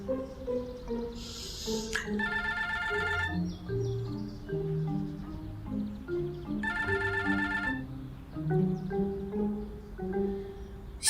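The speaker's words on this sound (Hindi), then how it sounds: "हयाती भाई की कॉल है" A mobile phone rings with a melodic electronic ringtone, two bright chiming bursts over a busy musical bed, fairly loud and continuous across the span.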